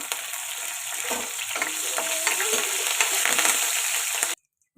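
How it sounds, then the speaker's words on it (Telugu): Dried chillies, crushed garlic and curry leaves sizzle steadily in hot oil as a tempering for okra fry, a dense crackling hiss with occasional stirring scrapes, close and continuous before cutting off near the end. "పోపు ఇలా ఫ్రై అవుతుంది కదండి"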